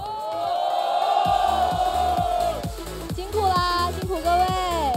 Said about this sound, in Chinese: 最后让我们掌声送我们的主播下去休息一下